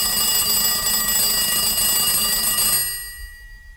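Telephone ringing after a call is dialed, a steady electronic ringtone that holds for a few seconds, then cuts off abruptly and leaves quiet line noise.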